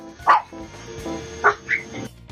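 A pet cockatiel called Cotton mimicking a dog's bark, giving a few short, sharp, nasal yapping calls close up, separated by brief pauses, with no people talking.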